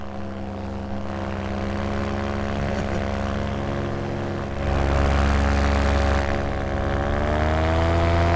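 A paramotor's small propeller engine buzzes loud and close in flight in a steady drone, rising slightly in pitch and intensity partway through, with no voices.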